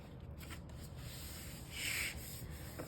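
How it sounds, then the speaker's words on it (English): Scored paper is folded in half for a mini journal, giving a soft, continuous rubbing and creasing sound that swells briefly near the end, close and quiet. "now what we're gonna do is we're going to fold this in half."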